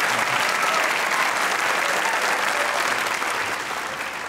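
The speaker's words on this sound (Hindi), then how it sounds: "आपकी भरपूर तालियों में बुलाने जा रहा हूँ वरीशा और अजलान शाह को।" Sustained applause from a television studio audience at a comedy talk show, steady and dense throughout, easing slightly toward the end.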